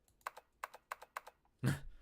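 Computer keyboard typing in the video game 999: four quick bursts of double key clicks at a steady pace, crisp and close in a quiet room, followed by a louder, fuller clack at the end.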